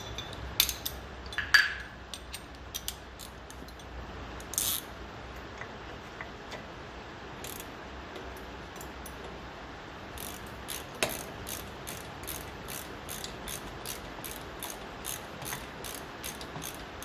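Ratchet clicking while tightening starter motor bolts on a 1954 Ferguson 20 TEF diesel tractor, short bursts of rapid close pawl clicks separated by pauses, then a steady run of evenly spaced clicks in the second half.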